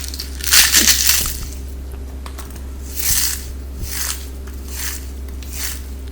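Crisp, layered khaja pastry is crunched and broken in a few dry, crackly bursts, loudest at first and fainter after, over a steady low hum, with no talking.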